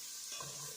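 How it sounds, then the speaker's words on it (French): Pork and mushrooms stirred together in a hot pan, a soft, faint sizzle with a brief scrape of the spoon. "Ensuite, on ajoute les champignons. On mélange le tout."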